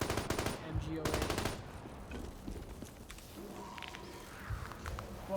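An MG08 machine gun fires in Black Ops 6 Zombies, two rapid bursts of close, loud automatic gunfire followed by scattered game sounds and footsteps.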